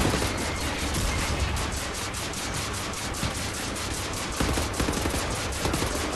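Rapid automatic gunfire in the video game Wolfenstein: The New Order, a dense, loud, continuous burst of shots lasting several seconds with no talking.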